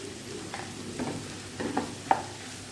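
Boiled potatoes stirred into a frying mixture in a pan for bread pakoda filling, a soft steady sizzle with a few light spoon scrapes and one sharper tap, close and quiet, no voices.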